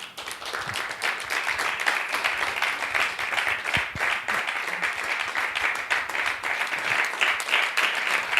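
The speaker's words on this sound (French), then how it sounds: "Nous acclamons." A church audience applauds a couple being welcomed, producing dense, sustained clapping from many hands that stays steady and fairly loud throughout.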